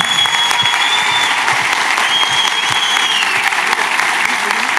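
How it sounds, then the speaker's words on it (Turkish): Loud, sustained audience applause at a municipal awards ceremony in Mersin, Turkey, as an Olympic athlete is honored; dense continuous clapping from a large crowd with a faint background tone. "Güçlü alkış istiyorum."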